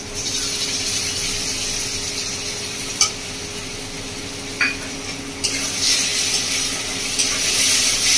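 Ginger, garlic and green chilli paste frying with onion and tomato for chicken kosha gives a steady, dense sizzle close up. A few clinks of a spoon on the pan come through, and the hiss swells toward the end, with no talk.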